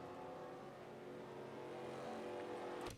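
A pace car engine in a racing sim game at Hanford hums at a steady, moderately high pitch, quiet and continuous, ending with a brief sharp click.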